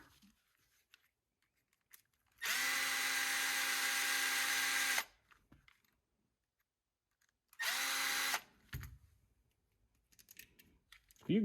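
Power drill whirring loudly on the bolts of a Traxxas TRX4M RC car during brass upgrades, with a long steady run of about two and a half seconds, a pause, then a shorter burst, and small handling clicks between them.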